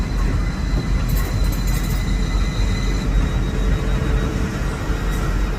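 An Azuma intercity train rolls into Doncaster station, a sustained loud rumble of wheels on rail with low whirring and occasional faint high squeals, close and continuous.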